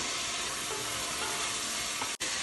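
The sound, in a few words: tomato added to sizzling pan for mushroom biryani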